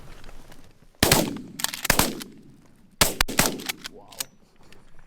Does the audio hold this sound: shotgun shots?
yes